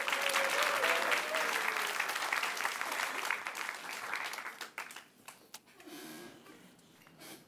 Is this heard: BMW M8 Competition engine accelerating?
no